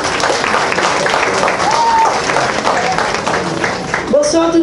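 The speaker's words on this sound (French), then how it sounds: "On nous applaudit ensemble." An audience at a Haitian cultural night on Creole claps together in a dense, steady wash, with voices and shouts mixed in and a short loud sound close to the mic at the end.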